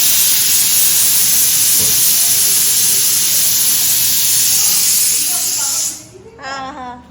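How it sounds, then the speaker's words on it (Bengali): Steady, loud steam hiss from a closed pressure cooker runs for about six seconds, then cuts off, leaving quieter room sound and a short voice in the background. "এবার প্রেশার কুকারটাকে আটকে দেবো"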